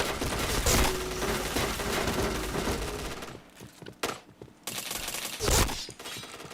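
Rapid bursts of gunfire from the video game Point Blank, dense rattling volleys followed by short sharp single shots and a final heavy burst, played loud with no talk over them.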